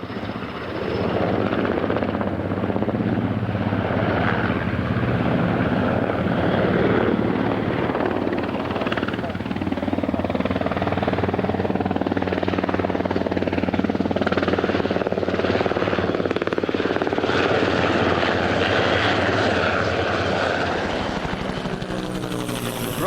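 A turbine-powered Eurocopter military helicopter flies at the 2003 Australian International Airshow, its rotor thrum and engine whine loud and continuous for the whole stretch without a break.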